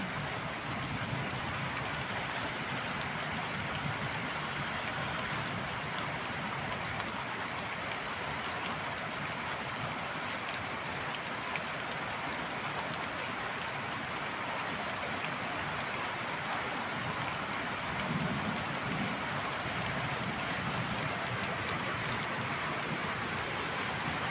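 Steady, dense downpour in Narsingdi, Bangladesh, heard from inside a house, hisses continuously at moderate volume, a constant wash of sound with a low rumble beneath and no voices.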